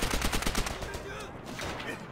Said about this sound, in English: Let's try the MP4, the most broken gun in the game.